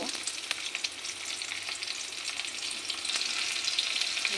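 Whole cumin, bay leaf and finely chopped onion fry in a pan with a close, continuous bright sizzle and light stirring scrapes, no speech over it.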